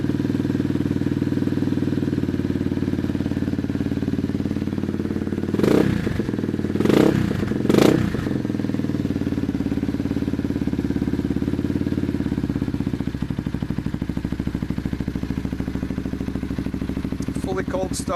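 A cold-started 2015 Yamaha TTR 230 dirt bike, uncorked and regeared, idles with the choke fully out in a steady, close, low thrum, broken midway by three short louder bursts.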